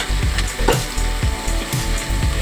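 Onions frying in a pan with turmeric give a steady close sizzle, broken by a few soft knocks and stirring scrapes, with no voices.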